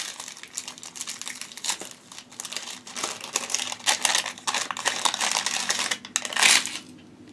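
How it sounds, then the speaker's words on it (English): A package of vintage green seed beads crinkles and rustles close by in quiet, irregular bursts of plastic crackle with short gaps between handlings. "Crinkles. Sounds like beads."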